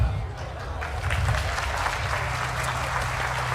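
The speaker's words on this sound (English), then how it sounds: "Thank you for the applause." A crowd applauds warmly at a college ribbon-cutting ceremony, steady clapping filling the room throughout, with faint murmuring underneath.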